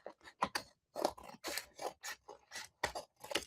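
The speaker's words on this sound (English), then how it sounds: "And now I'm going to trim this up." Scissors trim paper for a junk journal in a quick run of crisp, close snips, about a dozen distinct cuts with short gaps between them.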